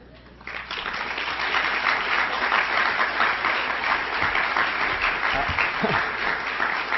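An audience at a 1992 university Class Day address bursts into applause, which starts suddenly after a brief quiet moment and then carries on as a full, sustained round of clapping.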